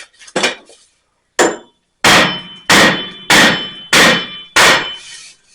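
A hammer strikes the rear wheel bearing hub of a 2008 Ford Escape, sharp metallic clangs landing a few at a time with pauses and then a steady run of five, loud and close.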